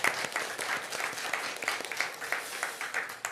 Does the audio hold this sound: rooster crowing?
no